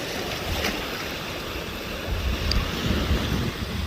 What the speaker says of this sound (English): as evidenced by these waves as they rush to the shore and then recede back into the larger body of water